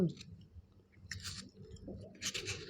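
Someone eats a home meal close to the microphone, with soft wet chewing and a few crisp bursts of mouth sounds over a low, quiet background.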